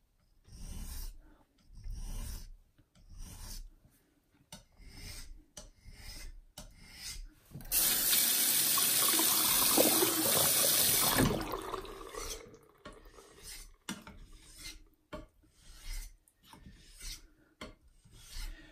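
Rhythmic rasping strokes of a knife blade across a wet natural whetstone with loose grit, quiet and close, in short even passes, with a longer continuous scrubbing stretch partway through.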